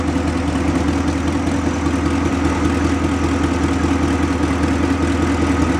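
A Ford 460 V8 swapped into a vintage F1 pickup runs steadily at idle while its cooling fan blows, a continuous close engine drone with a whirring rush of air and no voices.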